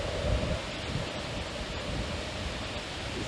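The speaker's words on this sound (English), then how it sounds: "this is the chocolate waterfall" Chocolate Falls in Arizona, muddy brown water pouring down in a steady, dense roar of rushing water, continuous and broadband with no pauses.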